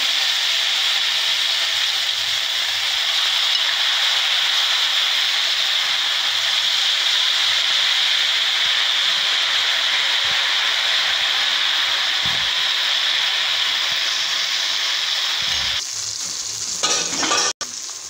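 Spoonfuls of moong dal pakora batter frying in hot oil, a loud, steady hiss that fills the whole stretch, with a few faint knocks and a brief clatter near the end.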